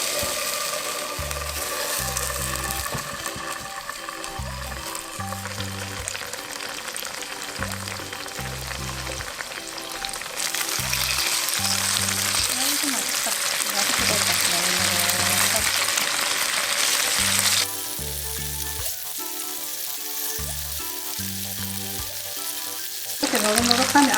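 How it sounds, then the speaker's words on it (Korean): Loud, continuous sizzling of tofu frying in hot oil until golden, with occasional scraping and stirring sounds throughout. "두부 노릇노릇하게 구워줍니다"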